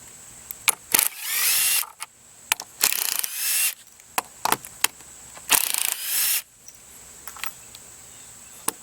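A power drill unscrews screws from PVC greenhouse pipes in several loud whirring bursts of about a second each, separated by short clicks and handling knocks close by.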